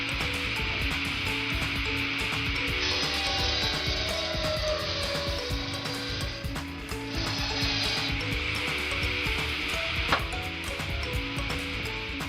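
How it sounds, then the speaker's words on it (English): A homemade saw cuts through a wooden log in a steady rasping, grinding drone, close and continuous for several seconds with a brief dip midway and a sharp click near the end. "A close-up of the process of cutting a log with a man's homemade saw."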